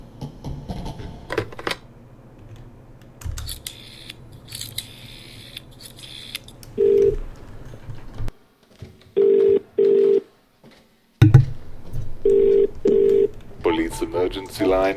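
An old telephone is dialed inside the horror video game The Cat Lady: dull clicks and shuffling give way to several short, clean electronic dial tones in pairs, with low game ambience and brief silences between them.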